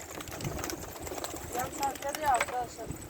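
Male pigeons coo softly close by on a rooftop over a low rumbling background, and people talk throughout.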